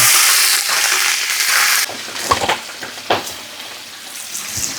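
Green chillies and spices hitting hot coconut oil in a large pot for chicken white kurma, a loud hissing sizzle that drops suddenly and then crackles and spits in uneven bursts.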